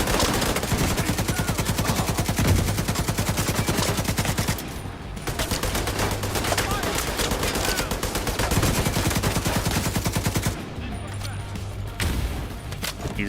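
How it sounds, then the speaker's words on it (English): Enemy machine guns in The Division 2 fire long, loud, rapid bursts that run almost continuously, with a couple of short pauses between volleys. "Another machine gunner. They do like the machine guns."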